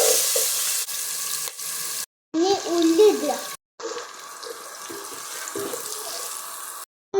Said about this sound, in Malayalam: ഇനി ഉള്ളി ഇടുക.